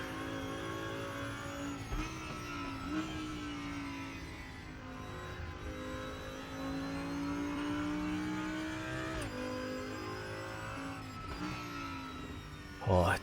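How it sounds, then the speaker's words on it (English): Audi GT4 race car engine and exhaust in the RaceRoom racing game, with a steady droning engine note that rises and dips through gear changes, playing continuously under someone talking. "And you got that fantastic pop, spit and barble back through the exhaust."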